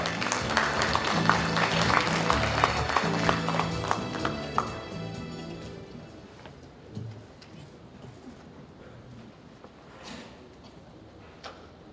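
Crowd applause at a Democratic Party leadership candidates' joint speech rally in Jeju, dense clapping for the first few seconds then fading out into a quieter hall with scattered noise.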